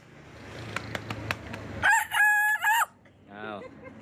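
A boy in Surin province, Thailand, uses his voice to imitate a rooster's crow. It comes as a loud, drawn-out, strained call in two close segments after a stretch of background noise, followed by a softer trailing call.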